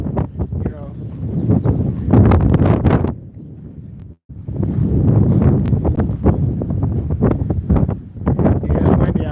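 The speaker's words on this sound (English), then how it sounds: "it's windy out here" Gusty wind buffets a microphone outdoors, a loud low rumbling roar that rises and falls in bursts under someone talking throughout.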